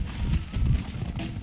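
Rapid hoofbeats of a galloping horse in the video game For Honor, a quick rhythmic thudding at close range, fairly loud and with no talk over it.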